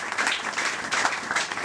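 Church congregation applauding during a celebration service, a dense, steady wash of clapping from many hands filling the room for a short burst.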